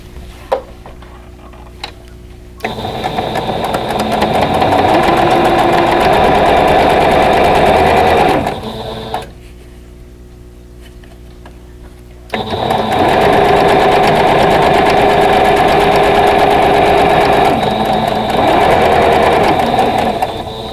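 A sewing machine stitches a quilt block unit in two long, loud, close whirring runs, separated by brief pauses with faint ticking and handling.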